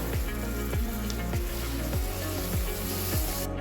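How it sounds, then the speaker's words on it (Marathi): Tomatoes frying with softened onions in a pan over medium heat, a steady close sizzle with regular stirring scrapes roughly every half second throughout. "आता आपण याच्यात टमाटर टाकून घेऊ"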